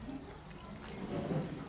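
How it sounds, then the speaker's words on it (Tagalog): Water poured into a pot of dinuguan, a Kapampangan pork blood stew, as it cooks: a close, continuous splashing pour that gets fuller and heavier toward the end. "maglagay po akong tubig"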